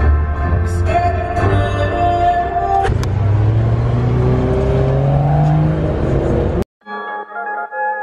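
A cheap, project BMW E90 3 Series runs and drives, its engine revving up in rising sweeps from inside the cabin, loud and close, before cutting to a quieter idle.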